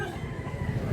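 A rooster crows in one brief, strained call, fairly close against a low background rumble.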